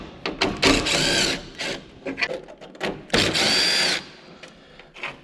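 Bolts come out of a Mack truck grille under a power tool, which whirs in short and longer bursts with brief gaps and a closing rattle.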